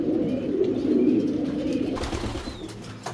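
A racing pigeon coos in soft, low, close throaty bursts through the first two seconds, followed by faint rustling and a brief chirp.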